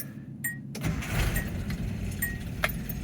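A Nissan 720 pickup truck cranks with a quick starter whir, then its engine catches and settles into a rough, low idle, close by and fairly quiet, with small clicks on top.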